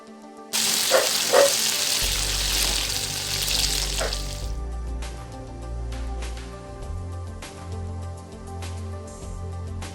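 Boiled yam pieces go into hot oil for a yam fry, setting off a loud, hissing sizzle that lasts a few seconds. Quieter frying follows, with scattered clicks and clatter from the pan.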